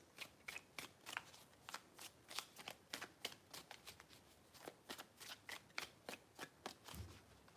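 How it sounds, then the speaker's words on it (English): A deck of tarot cards riffled and shuffled in quick bursts of crisp flicking snaps, repeated steadily and close up in a quiet room with no talking. "3 shuffles."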